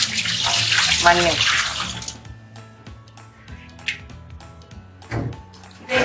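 Dirty wash water from scrubbing a new earthen clay pot pours out in a steady, splashing stream for about two seconds, followed by quieter clinks and drips while a voice speaks briefly.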